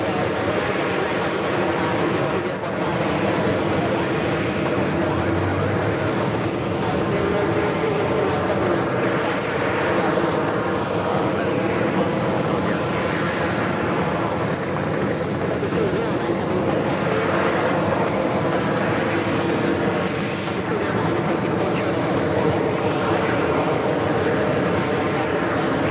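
Passenger jet arriving from Manchester, UK, crossing a runway at JFK airport in New York, a steady broad engine roar holding throughout with a thin high whine on top, while a voice talks over it.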